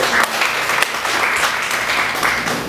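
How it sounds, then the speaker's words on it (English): A church congregation gives a clap of praise, steady dense applause filling the room at close range, with a few sharper claps standing out. "Let's give the Lord a clap of praise."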